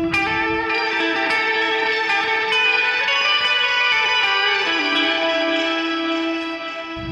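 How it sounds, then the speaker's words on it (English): An electric guitar run through a pedal delay with an octave shift on the reverb tail, sustained shimmering tones with long smeared repeats, loud and alone without talk. "it's just octaving the reverb, right? Not the note you're playing."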